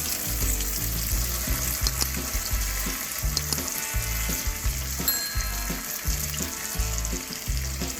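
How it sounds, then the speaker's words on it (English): Thick apple smoked bacon frying slowly in a pan, giving a steady close crackling sizzle with small irregular pops throughout and no voices. "I like to cook my bacon nice and slow, so it gets that just right crispiness."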